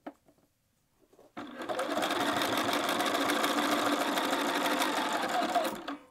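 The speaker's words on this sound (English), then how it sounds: "We're just going to sew straight down off the edge." A sewing machine stitches a straight seam on a quilted jacket, a steady loud mechanical whir running several seconds after a quiet pause, with no talking.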